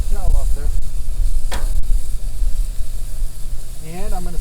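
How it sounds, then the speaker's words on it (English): Seasoned pork chops sizzle steadily on a hot grill, a continuous close hiss running under occasional bits of speech, with a brief sharper flare midway. "Hear that sizzle?"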